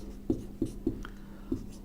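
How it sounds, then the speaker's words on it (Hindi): Chalk strokes on a board during a Hindi chemistry lesson: four or five short, crisp taps and scratches, close and moderately soft, spaced irregularly. "तो इसमें लिख भी लेते हैं"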